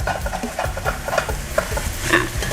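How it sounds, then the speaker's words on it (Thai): Preserved radish (chai po) and egg are dry stir-fried in a pan with no added water, giving close, repeated scraping stir strokes over a soft sizzle. "เทคนิคการผัดหัวไชโปนะคะก็คือว่า เราจะไม่เติมน้ำนะคะ เราจะผัดแห้งๆนะะ"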